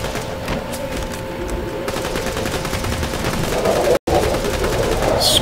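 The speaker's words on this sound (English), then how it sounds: "I'm shooting a whole lot" Rapid bursts of automatic weapon fire while fighting bandits at Sawtooth Cauldron in a video game, dense and continuous throughout, with one brief dropout near the end.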